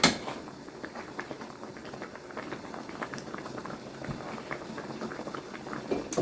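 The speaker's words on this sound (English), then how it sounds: "our cucumbers and onions are boiling in the brine" Steady bubbling of cucumbers and onions boiling in brine in a pot, a continuous dense patter of small pops at moderate level with no voices.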